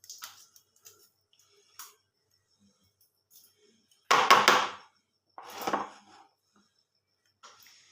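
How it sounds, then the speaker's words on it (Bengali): Cheese being grated by hand for a teatime snack: a few short, separate rasping scrapes, two of them stronger in the middle, with faint ticks and silence between them. "এর মধ্যে একটা চিজ আমি গ্রেট করে দেবো"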